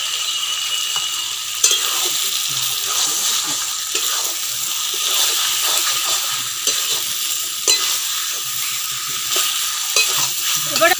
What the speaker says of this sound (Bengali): এবার আমি এর মধ্যে আমার এই আগে থেকে লবণ হলুদ আর খাঁটি সর্ষের তেল দিয়ে ম্যারিনেট করা মাংসটা দিয়ে দেব।